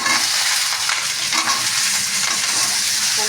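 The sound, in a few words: pumpkin and potato pieces dropped into hot oil, frying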